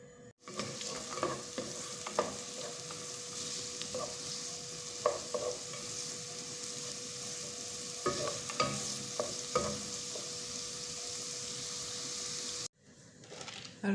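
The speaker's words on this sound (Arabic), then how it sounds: "ونحط شوية زيت لحتى نقلب فيه البصل" Chopped onion stirred and fried in oil in a pan with a bay leaf and dried lime, giving a steady close sizzle broken by scraping utensil clicks, which cuts off abruptly near the end. No one speaks.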